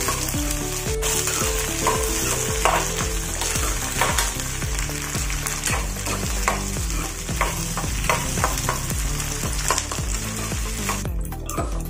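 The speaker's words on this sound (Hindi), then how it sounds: "कलर आने के बाद हम प्याज डालेंगे। अच्छे से मिक्स करेंगे।" Onions fry and are stirred in a pan for an ambadi and jowar vegetable dish, a loud steady sizzle with rhythmic scraping stir strokes repeating throughout, close up, no voices.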